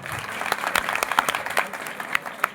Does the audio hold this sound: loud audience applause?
yes